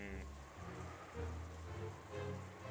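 Wind and rain sound outside in a steady, soft wash of rainfall, with dripping and hiss under low music tones.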